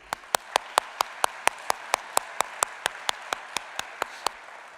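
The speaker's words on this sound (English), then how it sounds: "Let's give him one more round of applause" Steady, evenly spaced claps ring out about five per second, sharp and fairly close, in applause at a public talk on the antiquity of civilizations at the Edge, Fed Square, Melbourne.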